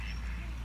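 A brief burst of duck quacking, fairly close, with outdoor background noise.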